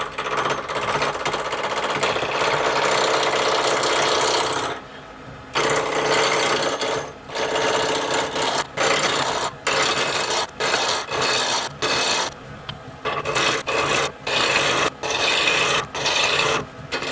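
A lathe turns a seam ripper blank round between centers, a loud continuous scraping and rasping of the tool against the spinning wood, with a brief pause and then a run of rapid, rhythmic gouge strokes.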